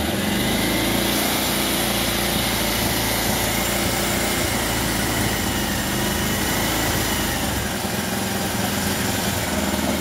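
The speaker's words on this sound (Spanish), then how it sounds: "voy a encender aquí lo que es la moto" A Bajaj Pulsar 180 or 220 motorcycle engine runs steadily at a slightly raised idle, a loud continuous buzzing drone held close throughout with no talk over it.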